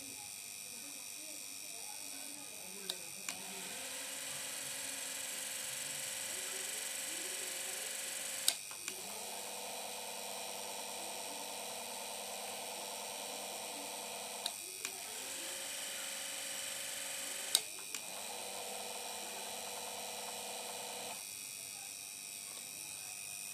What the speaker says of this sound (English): See, motor is rotating in forward direction